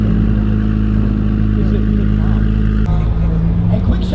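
A BMW's exhaust drones loudly and steadily under engine revving on a ride out to a supercar gathering, then shifts abruptly partway through as the pitch drops and the engine note clatters.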